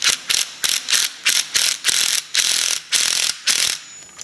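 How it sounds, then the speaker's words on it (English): A small 18 volt 1/4 inch impact driver tightens a scooter clutch assembly in rapid loud bursts of hammering ratchet clatter, about ten short pulses separated by brief pauses, close to the microphone with no talking. "This is an 18 volt impact 1/4 inch,"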